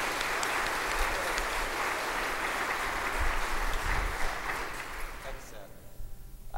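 An audience applauds to welcome a preacher to the stage, a steady wash of clapping that holds for about five seconds and then quickly dies away.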